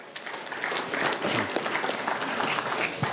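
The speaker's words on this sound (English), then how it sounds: "everybody should give yourself a round of applause" Applause from an audience at a town hall meeting on a concrete and asphalt plan, a steady wash of many hands clapping at moderate level for about three seconds, slightly distant and roomy.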